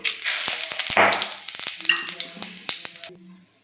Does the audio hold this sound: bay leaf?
yes